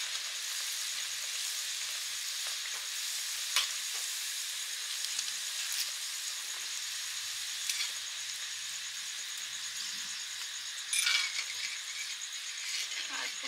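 Dal puri frying in hot oil, a soft steady sizzle and hiss running throughout at low volume, with a few faint clicks and a brief louder burst near the end; rain may be falling at night outside.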